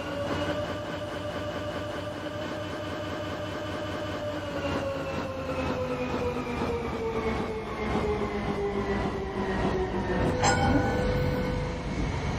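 A train running in a train simulator video game: a steady loud rumble of wheels and motor with a gradually falling electric whine and faint rhythmic clicking, continuous throughout with no talk.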